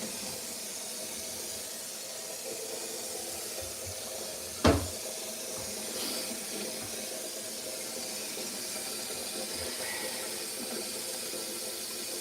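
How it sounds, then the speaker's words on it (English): Warm water running into a container in cold weather, a steady faint hiss of flow throughout with one brief louder clunk near the middle. "And maybe put some warm water in it."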